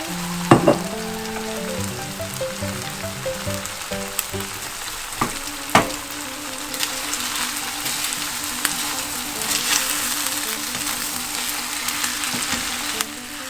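An egg fries in a wok for Thai pad see ew, a loud continuous crackling sizzle with a few knocks from a utensil at the start and a background hum; no speech.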